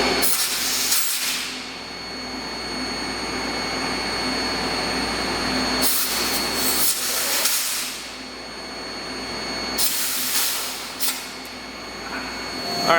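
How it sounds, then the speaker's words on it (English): Air hissing out of the spindle of a Willemin machine under no hydraulic pressure: a steady, loud broadband hiss that runs through the whole stretch, with a few brief louder bursts of rushing air. "I can hear air in the machine. It's coming out of the spindle a little bit"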